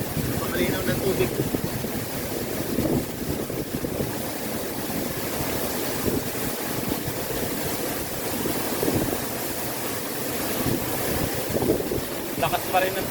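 Strong, steady rush of water at a waterfall, a dense continuous roar filling the whole stretch with gusty wind buffeting the microphone.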